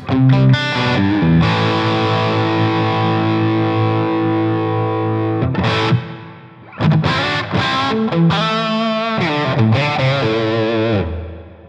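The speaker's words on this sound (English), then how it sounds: "Very nice reverb at those settings right out of the box." Distorted electric guitar through a Fractal FM3 effects unit, playing sustained chords and notes with a wash of reverb trailing off, a brief pause near the middle, then busier playing.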